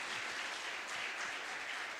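Audience applause at a science network meeting welcoming rangers, a brief, faint, even patter of clapping heard from a distance.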